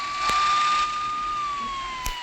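A police car siren in a video game wails in a steady, sustained electronic tone that dips slightly toward the end. Two short sharp clicks punctuate it, and there is no talk.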